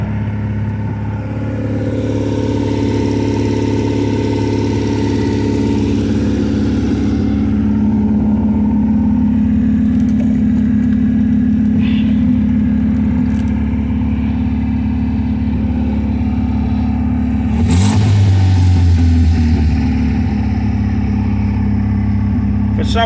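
An MGB car engine runs steadily and loudly at a high idle, with a brief surge of revving near the end; someone talks over it.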